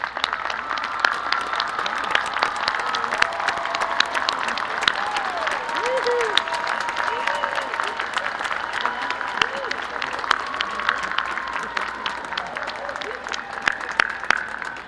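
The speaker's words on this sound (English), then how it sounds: "Families of our graduates, please stand now for a well-deserved round of applause." A large commencement crowd applauds graduates' families as they stand, dense sustained clapping spread through a big hall for about fifteen seconds, with scattered sharper claps and murmured voices underneath.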